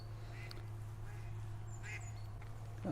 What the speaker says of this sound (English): I think there's a duck saying hello to us.